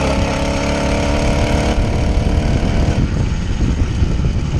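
An 80cc motorized bicycle engine buzzes loudly and steadily while riding, a close, droning two-stroke whine that holds a constant pitch before roughening slightly near the end.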